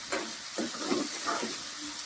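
A ground paste of ginger, coriander, garlic and coconut is fried in a pan for a spicy mince-ball curry, a steady close sizzle with soft stirring scrapes repeating through it.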